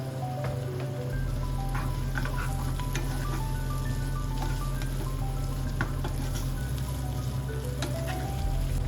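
Tomatoes and capsicum frying in a pan for dhaba-style paneer bhurji, a steady close sizzle with faint stirring clicks and a low hum running underneath throughout.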